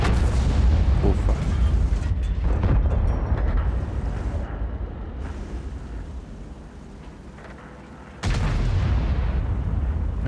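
E100 heavy tank cannon fire in World of Tanks, a loud booming blast that rumbles and fades over several seconds before a second heavy boom hits near the end, with a voice faintly under it.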